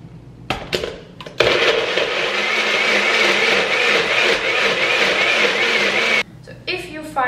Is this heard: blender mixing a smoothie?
yes